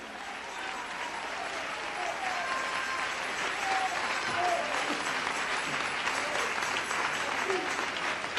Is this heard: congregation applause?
yes